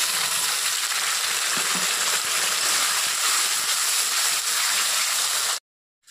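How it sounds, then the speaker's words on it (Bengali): Ground spice paste drops into hot oil for a banana flower ghonto with fish head, setting off a loud, dense, continuous sizzle that cuts off abruptly at the end. "এখন আমি এর মধ্যে এই বেটে রাখা মশলাটা দিয়ে দিচ্ছি"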